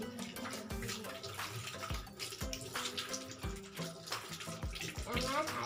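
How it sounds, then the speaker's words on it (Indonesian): Hands are rinsed under running tap water as the last step of handwashing, a steady close splashing with irregular spatters and gurgles continuing throughout. "Dengan air yang mengalir"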